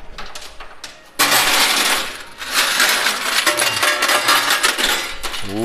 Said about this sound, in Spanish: Qué bonito se escuchan las monedas al caer, la verdad